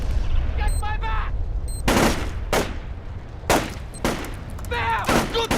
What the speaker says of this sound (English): Incoming fire! Take cover